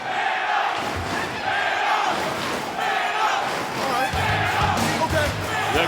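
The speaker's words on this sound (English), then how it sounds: "The crowd chants man up." A wrestling arena crowd chants "man up" in a loud, rhythmic group chant that fills the hall, with dull thuds underneath and a commentator's voice over it.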